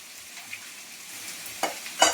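Prawns sautéing in a pan, a soft sizzle with a few sharp stirring scrapes and clinks toward the end, close and alone.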